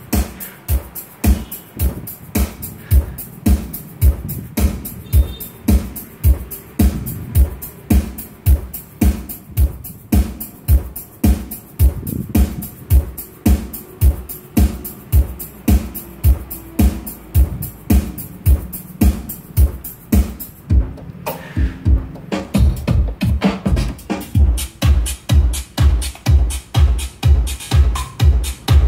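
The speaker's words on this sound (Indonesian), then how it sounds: "Itu suara dari keyboard ya." An electronic keyboard playing through an active speaker, a steady run of loud, punchy rhythmic notes with a strong beat that continues throughout, up close and with no talking.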